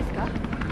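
A helicopter in the video game Resident Evil 3 gives a steady, loud rotor chop with a rhythmic beating pulse through a short stretch, alongside in-game voices.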